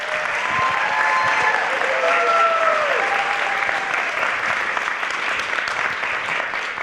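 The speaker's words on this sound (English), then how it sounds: "Can we have another round of applause?" An audience at an elementary school young writers' evening gives a sustained, even round of applause, dense and close, with a few faint voices and cheers rising over the clapping early on.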